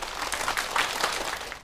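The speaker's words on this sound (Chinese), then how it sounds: "掌声欢迎吴征。" An audience bursts into applause to welcome the painter Wu Zheng onto a television show. The clapping is a brief, dense, even patter that holds at a steady level throughout.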